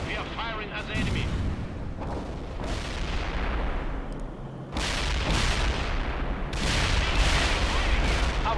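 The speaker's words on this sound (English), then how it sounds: "We are firing at the enemy." Armor units fire on the enemy in the real-time strategy game World in Conflict, during the Battle of the Sub Pen on hard campaign, with heavy booming artillery-like shots over a constant roar of battle while radio voices talk.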